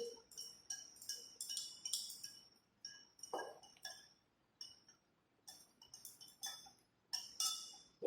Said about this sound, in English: again I will use another glass rod to stir this solution